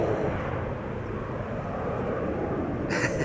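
An Embraer 175 jet departs Schiphol bound for Hamburg, its engines giving a steady, broad roar at moderate distance, with no talk.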